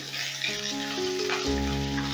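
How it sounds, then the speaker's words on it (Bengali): Pumpkin pieces frying in mustard oil in a wok give a steady, close sizzling hiss under sustained tonal humming sounds. "কুমড়োটা হালকা করে ভেজে নেবো।"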